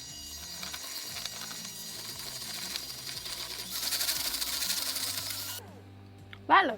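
An electric mixer beats softened cream cheese smooth for a pumpkin pie cheesecake, giving a whirring, rattling motor drone. The motor cuts off before the end, and a short clatter follows in the quiet.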